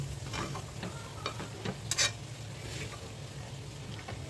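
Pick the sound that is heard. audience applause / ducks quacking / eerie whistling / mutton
mutton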